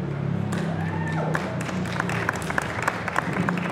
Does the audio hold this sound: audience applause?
yes